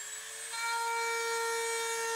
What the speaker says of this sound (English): we got that back section drilled out, took the Dremel and softened up this edge a little bit